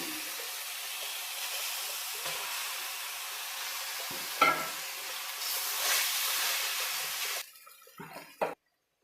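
Cooked rice being stirred into a frying mint mixture in a pan, a steady soft sizzle with scraping stir sounds, a brief clatter midway and a louder burst of frying before it quiets near the end; no talking.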